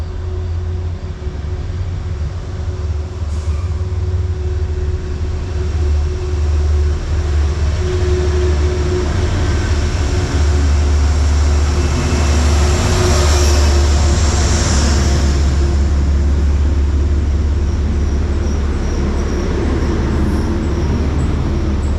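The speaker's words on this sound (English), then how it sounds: "Metro North train 1894 arrives at the Merit 7 station with Penn Central Heritage Unit number 217 leading as the train pulls to a stop" Metro-North train 1894, led by Penn Central heritage locomotive number 217, arrives at Merritt 7 station and pulls to a stop. A loud, steady engine drone and low rumble persist, with brief brake hiss partway through.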